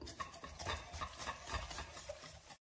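Flour being worked into oiled, salted dough by hand for sesame Ballon bread, a close, steady soft rubbing and squishing that runs continuously with no talking.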